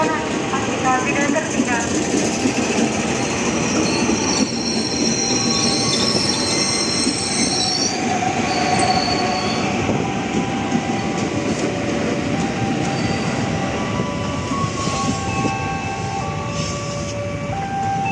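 KRL commuter electric train rolling through a level crossing, a long loud rumble of wheels with high squealing tones, under distant station-style announcements.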